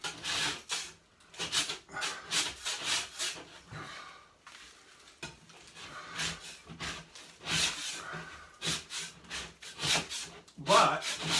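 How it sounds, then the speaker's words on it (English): A dried joint-compound hump on a repaired ceiling being scraped off, rough rasping strokes repeated in uneven bursts close by, with brief pauses between passes. "But you can scrape some off. So I'm scraping it off."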